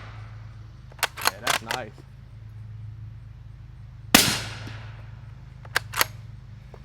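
A 350 Legend rifle fires subsonic rounds through a YHM R9 suppressor: sharp muffled pops, a quick cluster of four, then a louder single shot with a decaying tail, and two more later, over a low hum, with brief talk.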